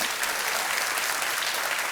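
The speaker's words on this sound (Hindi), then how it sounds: "एक बार फिर तालियों के साथ इनका हम अभिनंदन और स्वागत करते हैं।" Studio audience on the KBC quiz show applauds to welcome a contestant, a brief dense wall of clapping, steady and even throughout.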